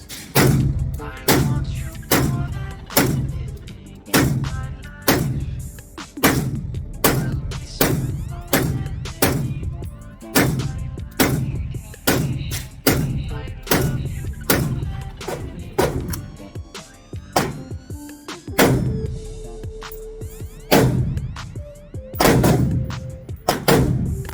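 Repeated shotgun blasts from a JTS MK12 semi-automatic shotgun, about thirty loud sharp reports in a steady rhythm with short gaps, each ending in a brief echo, with no talking.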